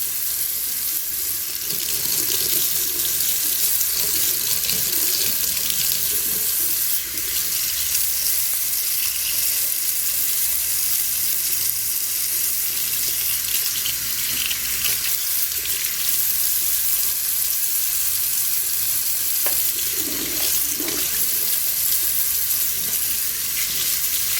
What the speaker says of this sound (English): Alright, so I'm gonna add some tap water.